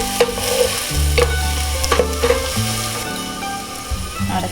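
Carrots sprinkled with salt sizzle steadily in a hot pan, with scraping stirs and light clatter from close by and no talking.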